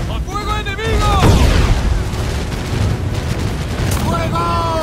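Ship cannons boom during a naval battle in Assassin's Creed IV Black Flag, a loud heavy blast rolling into a sustained rumble, while voices shout over the combat.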